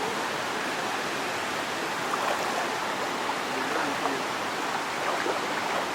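Benta River water flows in a steady, broadband rush outdoors, a continuous close wash of moving water with no breaks.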